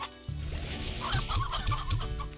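Chickens in the Slime Rancher video game cluck in a run of short, quick calls over a steady game background tone, close and clear, with no talking.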